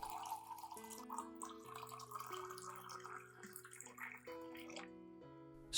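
Clean room-temperature water is poured onto three tablespoons of rice in a glass, a quiet gurgling pour with rising ringing tones as the glass fills, steady for several seconds.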